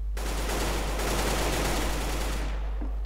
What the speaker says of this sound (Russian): Везде где-то стрельба